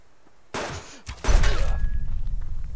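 Gunfire in the survival video game Subsistence: a sudden loud burst of shots followed by a second heavy blast, then a rumbling, crackling tail that keeps going to the end.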